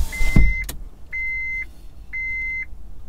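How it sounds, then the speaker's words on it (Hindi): Car power windows closing inside a parked car, three separate whirring motor runs after a short knock, each lasting about half a second, close and clear with no talking. "तो मैं कांच वाच सब बंद कर देता हूँ गाड़ी का।"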